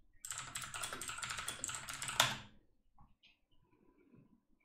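Quick, steady typing on a computer keyboard while searching for a WordPress plugin, a close burst of key clicks ending with a sharper keystroke, then near silence with a few faint clicks.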